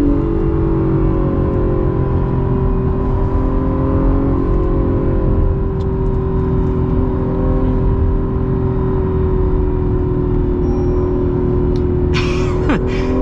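An Acura NSX supercar drives a canyon road, its engine a steady, close, sustained drone with a tonal whine that climbs briefly near the end.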